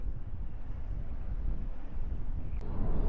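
Wind blows hard across the microphone while someone fishes outdoors, making a steady, loud rumbling roar that runs the whole time with no talking.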